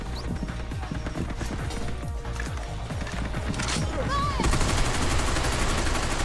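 Rapid gunfire in Binary Domain amid combat, clattering bursts and impacts repeating steadily at close range, intensifying toward the end with other game sounds mixed in.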